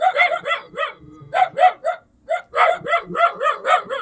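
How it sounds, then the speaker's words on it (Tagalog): A dog barks repeatedly in quick bursts at close range, with short yips between the bursts and a brief pause in the middle. "Hindi na tayo masyadong kilala ng aso ni Tatay Willie."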